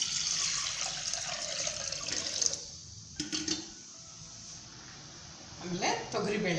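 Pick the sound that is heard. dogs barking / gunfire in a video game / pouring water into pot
pouring water into pot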